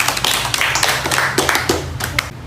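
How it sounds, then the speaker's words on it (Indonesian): Applause for a classmate during a group guidance session, a dense burst of hand clapping from a small group that continues steadily for a couple of seconds. "kita beri tepuk tangan untuk Ralda."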